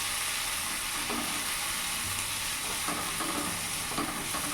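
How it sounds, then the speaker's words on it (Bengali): Ginger and chilli paste fries in hot oil for a poha and semolina masala dosa filling, giving a loud, steady close-up sizzle with occasional stirring scrapes throughout. "কিছুক্ষণ ভাজা ভাজা করে নেব।"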